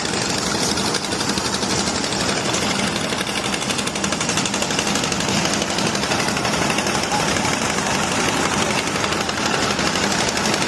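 Diesel engines of sand-carrying trawler boats on a river sand-mining area chug in a loud, steady, rapid knocking rhythm that fills the whole stretch without pause.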